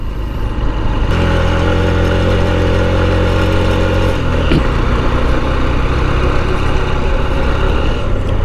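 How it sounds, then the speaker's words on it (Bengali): A motorcycle climbs a hill road toward Ajodhya hill top in Purulia in second and third gear, its engine droning loud and steady up close with a shift partway through, wind rush throughout. "পুরো পাহাড়ের এটাই আমরা মোটামুটি সেকেন্ড গিয়ার আর থার্ড গিয়ারে উঠছি"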